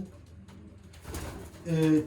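A racing pigeon gives a low, soft coo near the end, following a quiet murmur of background noise.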